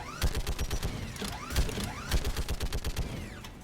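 Turret gunfire from Mass Effect 3 rattles in rapid bursts, sharp repeated shots with metallic whirring sweeps between them, moderately loud and without speech.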